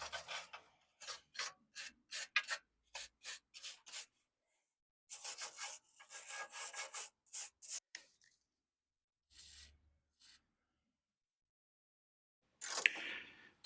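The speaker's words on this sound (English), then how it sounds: "All I'm doing is I'm removing two bolts that mirror the ones that you can see in the picture there" Crusty bolts are being worked loose from a crash-damaged Fiat 500, giving bursts of close rasping, scraping tool strokes in quick repeated runs with quiet pauses between.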